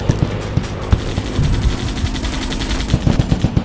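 Rapid suppressed gunfire in a video game sounds as dense bursts of sharp, clattering shots fired close and loud, with a few heavier single reports mixed in and no talking.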